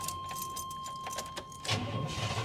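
Government surplus auction car starting after years unused: repeated cranking clicks, then the engine catches and settles into a rough close rumble, with a faint steady electronic tone underneath.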